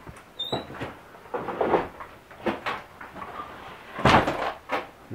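A double closet door in an abandoned cabin at Mono Lake is worked open, giving a series of close creaks, knocks and scraping bumps spread unevenly across several seconds.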